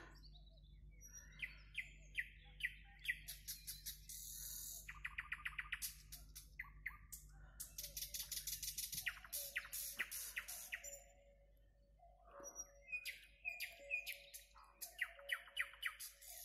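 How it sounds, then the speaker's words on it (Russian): A nightingale sings a rich, varied song of rapid trills, whistles and chirps, fairly close and loud, with a low background hum, on a late-May evening at a country house. "Слышите, как поет соловей?"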